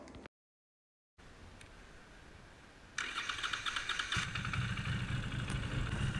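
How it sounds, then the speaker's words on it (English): A Norton Commando 961SP motorcycle engine catches after a quiet pause and settles into a deep, steady rumble, growing louder partway through and holding a continuous idle with no talking. "Firing the bike up, it needs a little bit of throttle to coax it into life, but once started, the Commando has a deep and evocative rumble."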